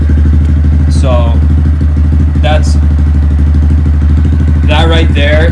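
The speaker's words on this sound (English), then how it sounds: "that right there is just idling" A 2018 Honda Grom motorcycle engine idles with a loud, steady low rumble, while someone talks over it in short bursts.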